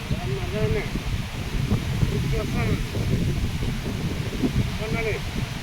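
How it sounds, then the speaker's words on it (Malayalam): Gusty wind before rain buffeting the microphone outdoors while fishing in Palakkad, a constant blustery rumble with voices talking over it. "നല്ല കാറ്റുണ്ട്"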